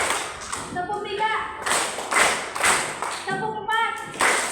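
Hands clap in a classroom counting exercise, several sharp claps scattered unevenly across the stretch, with a voice speaking between them.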